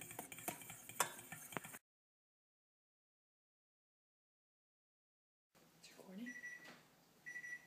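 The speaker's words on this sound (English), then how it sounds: "Now that the timer's gone off" Clattering kitchen noises, a stretch of silence, then a kitchen timer going off with repeated short, high beeps.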